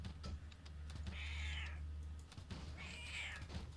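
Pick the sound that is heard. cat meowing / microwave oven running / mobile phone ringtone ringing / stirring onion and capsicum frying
cat meowing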